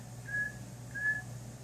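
A voice imitates a zookeeper blowing his whistle, two short, clear, high whistled tones spaced about half a second apart, faint and alone over a quiet low hum.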